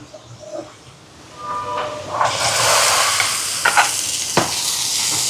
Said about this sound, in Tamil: நல்லா இதில் வந்து காஜுவையும் பிளம்ஸையும் சேர்ப்போம் பொரியட்டும்